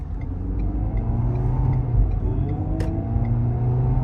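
A Ford Fusion 2.5 SE with a CVT transmission accelerating sluggishly: a steady, droning low engine rumble that holds a flat, drawn-out tone without distinct gear changes, close and continuous throughout.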